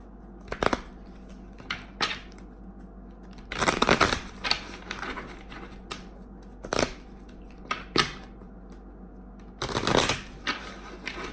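Tarot cards are shuffled in repeated bursts of riffling and flapping, close up, with quiet pauses and faint handling noises in between.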